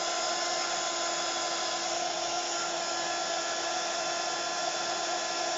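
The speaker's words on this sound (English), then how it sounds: "So you've got to get the heat gun quite hot," A heat gun blows steadily as it melts embossing powder on a cardboard cog made from a cereal box, a constant close whooshing hiss of hot air with no break and no talking.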